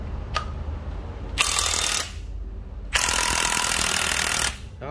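An old Japanese cordless drill running in hammer mode gives two loud, rattling hammering bursts of about a second and a half each, separated by a brief pause, close up and alone.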